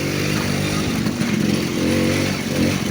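A moped engine drones steadily while riding, a loud, close, rough buzzing hum that holds an even pitch throughout with slight wavering.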